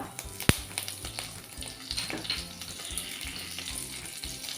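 Curry leaves sizzle and crackle in hot oil for tempering alongside cumin, with a sharp pop near the start followed by dense continuous spitting and frying close by, plus faint stirring scrapes.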